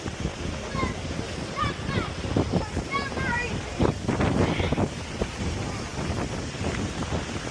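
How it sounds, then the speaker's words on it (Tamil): Wind buffets a microphone outdoors beside a river in London, making a continuous low rumbling roar with gusts under a person talking throughout. "இன்னைக்கு நல்லா காற்றடிக்குது வேற."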